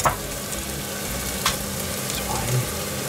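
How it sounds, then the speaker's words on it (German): Ingredients for a chicken and rice curry sweat briefly in a pot, giving a steady crackling sizzle with a few sharper spits and stirring clicks throughout, close and fairly loud. "So, ganz kurz anschwitzen."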